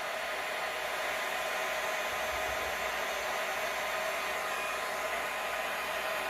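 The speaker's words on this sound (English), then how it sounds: "Medium heat on my heat gun." Heat gun running on medium heat during a tray kit build, a steady loud broadband blowing hiss held constant from start to finish with no talking.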